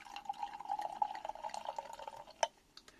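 Artistraw Kingston Black cider poured into a glass, a steady close liquid gurgle running for a couple of seconds before a sharp clink near the end.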